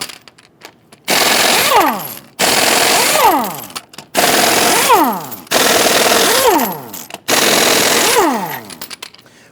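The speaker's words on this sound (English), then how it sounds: "Using a 21mm socket, loosen and remove your lug nuts." Impact wrench loosening 21mm lug nuts on a 2000-2006 Toyota Tundra wheel, five loud rattling bursts of about a second each, with the pitch falling and rising as each nut spins off, separated by short pauses.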